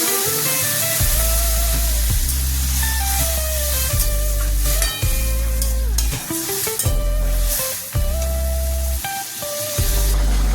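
Water is poured into a pan of sizzling fried vegetables and aubergine, giving a steady close hiss and sizzle with stirring noises, played under prominent background music.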